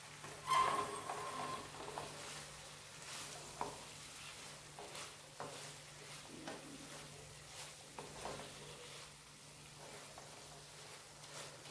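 Prawns cooking in butter in a pan give a quiet, soft sizzle with occasional light stirring clicks and scrapes, fairly faint and steady, with no one talking.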